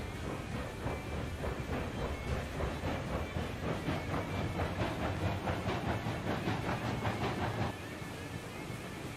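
A train rolls along the tracks with a rhythmic clickety-clack and a hissing rumble, loud and steady, then eases slightly near the end.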